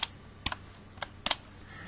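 Keystrokes on a computer keyboard while coding, in quiet isolated clusters: a single tap, a quick double tap, another lone tap, then a closer double tap. Each is brief, crisp and close.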